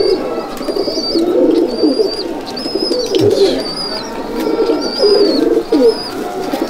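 A flock of pigeons in a loft at Sangrampur coo in a thick, continuous rolling chorus, near and steady, while small birds tweet repeatedly overhead and a soft thump lands midway.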